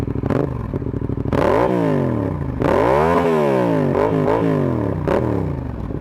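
A Yamaha MT-07 motorcycle fitted with an Ixrace exhaust idles with a throbbing parallel-twin rumble and is revved several times, pitch sweeping up and falling back, loud and close with no talking.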